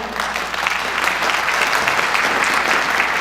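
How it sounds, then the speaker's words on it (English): An audience applauds a statement at an Al Gore talk, with dense, even clapping that holds steady and loud for a few seconds, with no voices over it. "This is probably the only crowd that would applaud a statement like that"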